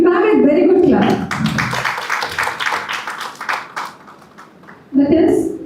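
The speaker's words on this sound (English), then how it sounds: "give ma'am a very good clap" An audience at a teachers' event applauds a teacher with a few seconds of lively clapping, framed by someone speaking into a microphone before and after.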